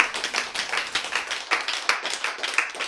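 A lecture audience claps together in a steady, close burst of dense, rapid hand claps lasting a few seconds.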